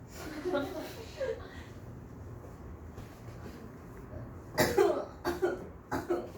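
Several short, rough coughs from a nearby person, scattered across a quiet room with a few faint murmurs between them.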